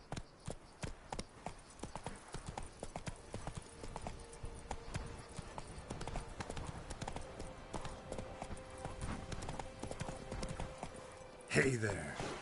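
Hooves of the horse Roach galloping in Witcher 3, a rapid rhythmic clip-clop running steadily and fairly close, with a brief louder burst near the end.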